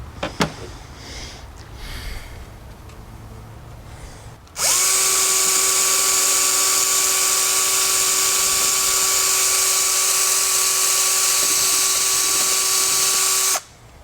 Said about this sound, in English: We're going to drill starter holes first, the smaller size.